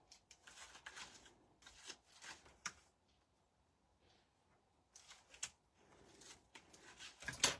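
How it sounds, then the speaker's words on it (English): Double-sided tape backing being peeled away in a few short crackly tearing bursts with quiet gaps between, close and moderately soft, no talking. "then just take off the double-sided tape"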